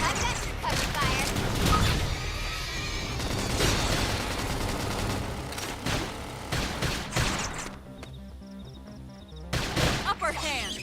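Rapid covering gunfire crackles through a busy Xenoblade Chronicles X: Definitive Edition battle, dense bursts layered with impacts and combat effects, with a brief thinner stretch before loud shots return near the end.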